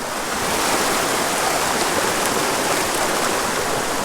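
Water rushing steadily in a small Michigan trout creek, a dense, continuous close-up wash of flow with no pauses and no voices.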